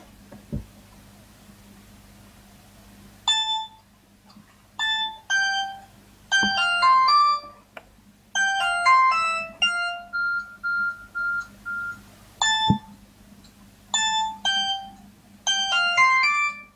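Phone ringtone from an incoming call, a bright electronic melody of quick tonal beeps played in repeated short bursts with brief gaps, fairly loud and close over a faint background hum.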